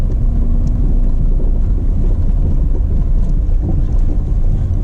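Holden VS Commodore car accelerating, heard from inside as a steady, loud low engine drone with road and wind rumble, no voices.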